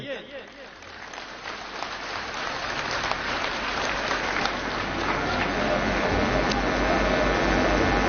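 Crowd applause at a BSP-INLD alliance political rally in Haryana, building from scattered claps into a loud, sustained ovation with a shouting voice and crowd noise mixed in.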